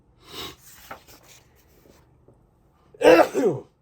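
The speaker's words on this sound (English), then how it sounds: "I try to hold off any sneezes during the show, but sometimes they just happen." A single sharp, close sneeze bursts out near the end, following a few softer breathy sniffs and throat noises.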